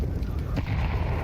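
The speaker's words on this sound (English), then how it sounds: "Maybe that nade helps out" A grenade going off in Counter-Strike 2 during a Shanghai Major semifinal match: a dense, deep booming rumble that fills the whole brief moment.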